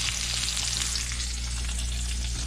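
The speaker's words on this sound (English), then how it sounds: "I'm frying it in the cast iron frying pan." Continuous loud sizzling and crackling of meat frying in a hot cast iron pan, close and steady throughout, over a low hum.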